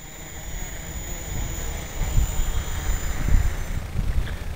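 A Gaui 330X multirotor flying in a 15 to 17 mph wind, a steady motor hum and whine with wind gusts buffeting in low rumbling bursts.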